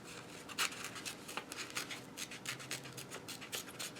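Red and blue coloring on a paper ship craft comes through as faint, repeated scratchy rubbing strokes in a quick, uneven rhythm.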